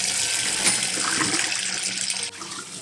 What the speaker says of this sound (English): has a unique method of rinsing off his mouth